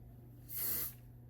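A single half-second burst of hairspray from an aerosol can, misted onto freshly styled hair up close, a soft steady hiss that swells and fades over a low background hum.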